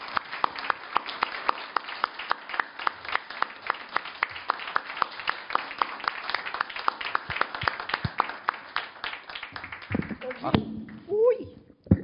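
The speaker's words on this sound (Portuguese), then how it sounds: "uma salva de palmas para a Julieta." An audience at a literary academy event gives a long round of applause, with dense, evenly paced claps that run for several seconds before voices begin talking near the end.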